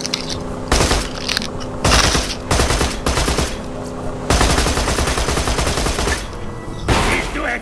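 Vehicle-mounted gun turret firing in the Borderlands 2 video game: dense, loud bursts of rapid automatic fire in several long volleys with brief pauses between, the gunfire dominating throughout.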